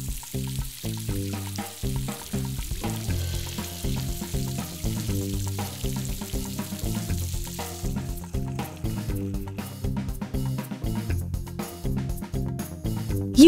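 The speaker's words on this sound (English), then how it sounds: "Move the hose to fill up the dog's water dish." In a PBS KIDS Play & Learn Science children's game, a hose sprays water into a dog's water dish as a steady, crackling hiss broken by quick rhythmic ticks, with no voices.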